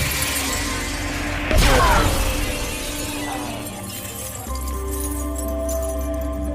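A sniper rifle scope shatters when a bullet hits it in an action film scene: a sharp, loud glassy crash and burst that rings out over a steady bed of tense film music and ambience.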